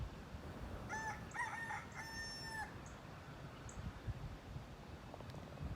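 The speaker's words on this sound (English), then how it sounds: "There was a rooster a second ago" A rooster crows outdoors in a single drawn-out call of several harmonic phrases, moderately distant, with faint chirps afterward and a steady background of wind and rustling trees.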